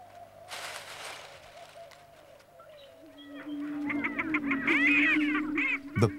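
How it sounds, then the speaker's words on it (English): Male sage grouse on a lek give strange, resonant booming calls from inflated air sacs, a series of hollow pops and warbling gurgles building in loudness, with other birds calling faintly in the background. "The inflatable air sacs of the male sage grouse serve to increase the resonance of their strange booming calls"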